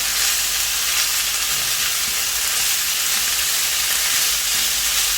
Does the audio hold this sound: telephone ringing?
no